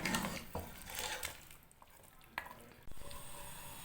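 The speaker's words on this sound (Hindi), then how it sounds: "अब मज़ीद थोड़ा सा जो है इसे भून लेंगे और पानी को जो है खुश्क करेंगे।" Mutton sizzling and hissing in a hot pot as the water is cooked off, with occasional clanks and scrapes of a stirring spoon, up close.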